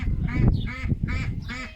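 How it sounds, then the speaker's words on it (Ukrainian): A loud domestic duck quacks in four harsh, evenly spaced calls, close by with a little background noise and no talk. "Гарласта така ти качечка, гарненька, але горласта."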